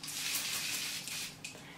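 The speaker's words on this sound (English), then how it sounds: "You just spray it on your face" Avène thermal spring water mist sprays onto a face: a soft, airy hiss that runs close and continuous for under two seconds, ending in a brief second puff.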